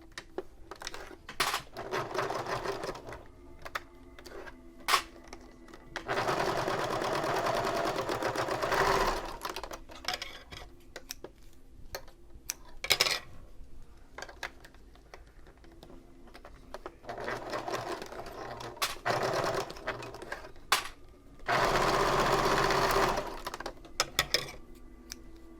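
Sewing machine top stitching bag pieces, with several bursts of steady rapid mechanical whirring a few seconds long, separated by pauses filled with clicks, fabric handling and small taps.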